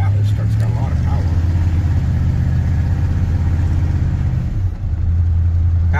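1977 Chevrolet C20 Scottsdale truck engine pulls steadily while driving, a deep, loud drone that dips briefly near the end, with someone talking over it.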